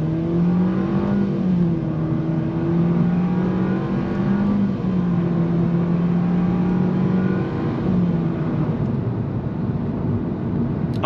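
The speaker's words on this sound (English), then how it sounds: "when you really accelerate, it kind of reveals that it's not a super fast car" A 2023 Nissan Versa SR engine strains steadily under hard acceleration, its droning pitch rising and stepping through a few simulated gear changes, close and constant.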